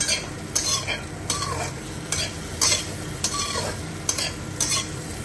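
Potatoes and paneer fry in a pan with little oil, stirred in regular scraping strokes roughly every second over a steady close sizzle, with no one talking.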